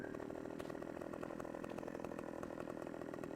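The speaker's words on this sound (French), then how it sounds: "Donc j'ai la tronçonneuse Husqvarna" A Husqvarna chainsaw cuts into a fir tree in Farming Simulator 15, a loud, steady buzzing roar that holds at full throttle without pause.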